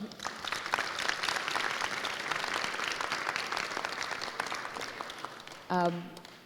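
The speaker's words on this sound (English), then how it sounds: "please, big applause for Eva" An audience at a conference panel on AI and content moderation claps for a departing guest, a sustained crowd of hands at moderate level, closing with a brief voiced sound near the end.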